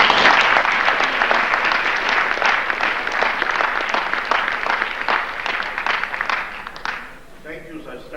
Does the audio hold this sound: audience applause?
yes